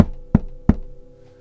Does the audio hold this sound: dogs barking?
no